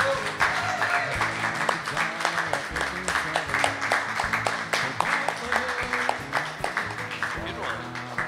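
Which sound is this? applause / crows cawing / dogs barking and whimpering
applause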